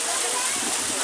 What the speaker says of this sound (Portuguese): Cachoeirinha ali